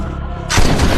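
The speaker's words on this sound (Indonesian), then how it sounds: "dia langsung menembaki Reaper." Gunfire erupts in an action film scene as a villain shoots at a man who has fallen. A quieter rumbling lead-in gives way halfway through to a loud, dense, sustained burst of blasts.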